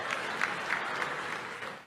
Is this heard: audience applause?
yes